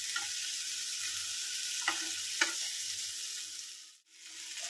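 Onions and tomatoes sizzle steadily in oil in a pan, close and constant. A spoon mashes and stirs them in a couple of soft scrapes, and there is no talking.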